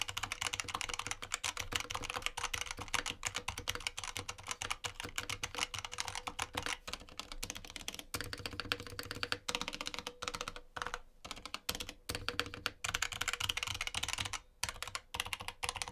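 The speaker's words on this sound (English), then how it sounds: "Now, as you just heard right there, the keyboard sounds fantastic as well." Continuous rapid typing on a gaming keyboard fitted with Razer yellow linear switches, a close, steady stream of light clacks and taps with brief pauses, no voices.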